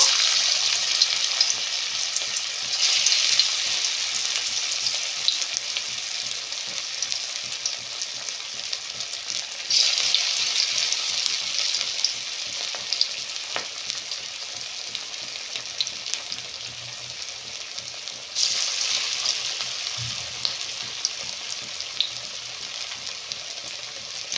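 Banana flower fritters fry in hot oil with a steady, dense sizzle that swells now and then as pieces are moved, close and continuous with no talking.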